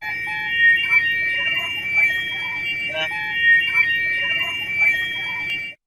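A voice imitates a coach's two-tone luggage door closing buzzer, holding steady high pitched tones with small breaks, fairly loud and close, with no other talking.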